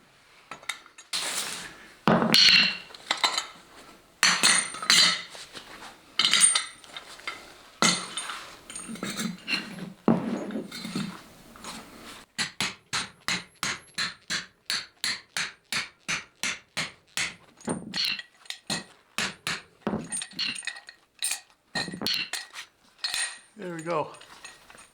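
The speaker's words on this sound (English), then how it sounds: "so we'll hammer it down in" Repeated hammer strikes driving a metal part into a trailer ramp ring out, first scattered and then in a fast steady series of sharp clanks, close by.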